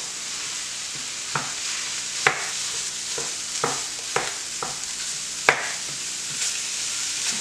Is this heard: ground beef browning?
yes